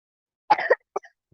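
A short, dry cough from one person with a cold, a quick burst followed by a smaller second cough, close and fairly clear in an otherwise quiet room.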